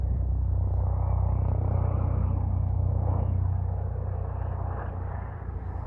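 A steady, low jet roar rumbles continuously overhead from a fighter jet plane, fairly strong at first and fading a little toward the end, with no voices.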